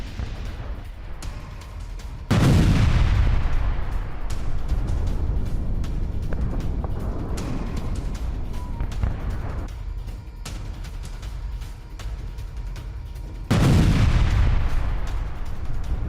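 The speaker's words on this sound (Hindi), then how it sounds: "तुर्की में एक रेस्टोरेंट में जबरदस्त विस्फोट हुआ है" Two heavy booms from an explosion at a restaurant in Turkey burst out several seconds apart, each followed by a long rumbling roar and crackling noise.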